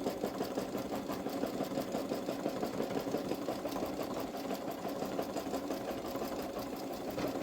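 A Babylock Solaris embroidery machine stitches a zippered eagle bag in the hoop, a steady fast mechanical whir and needle chatter running evenly and fairly quietly throughout.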